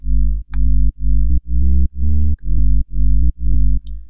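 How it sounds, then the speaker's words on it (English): A deep house sub bass synth pulses in eight even, long, round low notes with short gaps between them, heavy and loud, with only faint clicks around it. "And then we have a sub bass."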